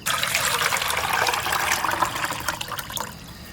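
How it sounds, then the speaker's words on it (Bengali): Milk poured into a cooking pot for payesh makes a close, continuous splashing pour that tapers off toward the end, with no one talking. "খানিকটা দুধ ঢেলে রাখি না হলে পায়েসটা রান্না করা যাবে না"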